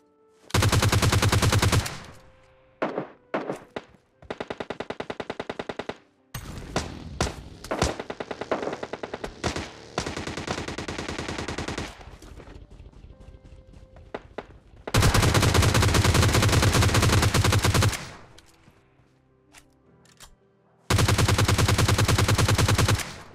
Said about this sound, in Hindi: पीछे से गनशॉट्स की आवाज आ रही है